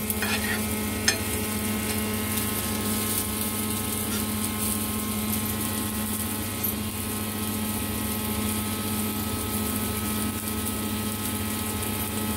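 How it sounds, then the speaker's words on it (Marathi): Masala spices sizzling and frying in hot oil in a pan while cooking stuffed bitter gourd (karela), a steady close hiss with a faint stirring clink early on. "तेलामध्ये हे टाकून द्या मसाला."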